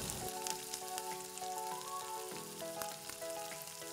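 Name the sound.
chicken and ginger frying in a pan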